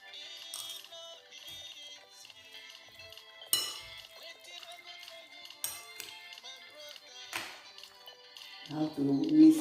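A utensil clinks and taps against a bowl while avocado and egg salad is stirred, producing sparse sharp ticks with short pauses between them, fairly close, over a quiet music-like background.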